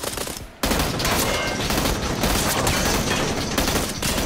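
Rapid bursts of automatic gunfire ring out in the battle royale game PUBG, a dense, loud barrage that starts abruptly after a brief lull and keeps rattling almost without pause.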